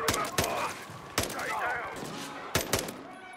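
Rapid bursts of automatic gunfire in Modern Warfare 3, cracking in short volleys spread across a few seconds. Background game noise and faint voices run underneath.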